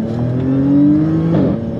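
A 2010 Audi S5 with a supercharged V6 spins its wheels while accelerating, the engine climbing in a rising whine-laden rev, then briefly stumbling as traction breaks, close and loud over about two seconds.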